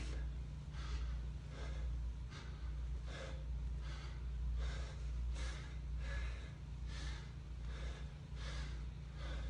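During a home boxing workout, a person breathes heavily in a steady rhythm of sharp, forceful exhales about once a second. The breaths are close to the microphone but quiet, over a low background hum.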